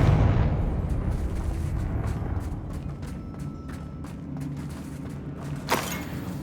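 A Confringo blasting spell goes off in Hogwarts Legacy, a deep rumbling explosion that fades over several seconds, followed by a sharp crackling burst near the end.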